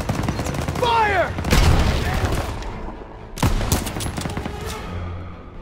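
Heavy artillery fire strikes an MG-42 machine-gun nest during a Call of Duty WWII battle, with loud booming blasts and bursts of gunfire stacked in two big waves amid shouting and whistling debris.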